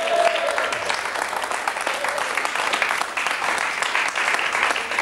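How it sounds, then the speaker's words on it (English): A studio audience at a radio show breaks into steady applause, dense and even throughout, with a brief voice near the start. "give him a nice round of applause."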